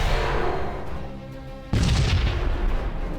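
Starship kinetic weapons firing in the Sunrider space battle game, a heavy boom fading into a ringing tail, then a second loud blast crashing in midway and rumbling to the end.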